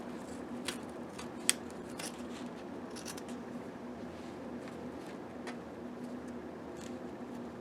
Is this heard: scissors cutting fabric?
yes